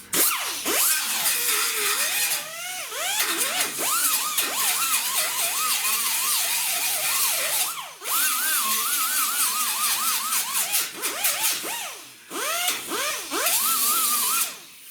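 Power tool grinding paint off the edge of a rusted-out windshield channel, a loud continuous whine with rising and falling pitch as the tool loads and eases off, broken by brief pauses.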